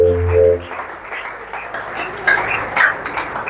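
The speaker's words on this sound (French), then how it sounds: "On va acclamer Dieu." Church congregation applauding to acclaim God, a dense burst of clapping that rises after a brief sung note and continues with scattered louder claps and cheering voices.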